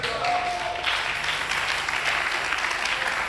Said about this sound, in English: Clap your hand for what I just said.